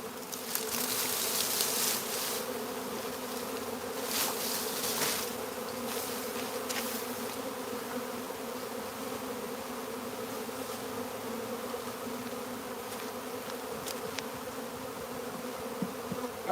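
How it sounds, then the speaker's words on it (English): A large swarm of bees pouring into a trap out of tall grass, a dense, steady buzzing hum close by that carries on with no let-up and no talk. "I got the bees in the trap."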